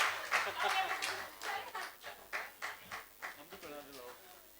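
Faint applause from an audience at a mushaira and kavi sammelan poetry gathering in a district council hall in Deoria, India, heard as a quick, regular run of claps that swells and fades.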